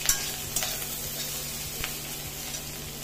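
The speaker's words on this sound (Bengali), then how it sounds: "মই পিঁয়াজটো দি ইয়াৰ লগত ভালদৰে লৰাই দিছোঁ।" Onions being stirred into bitter gourd frying in a pan, with a steady close sizzle and a few soft scrapes and knocks of the stirring utensil throughout.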